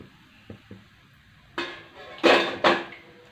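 Fried bhagar medu vadas are lifted out of a frying pan: a couple of faint clicks, then three louder close clatters and scrapes of a utensil against the pan.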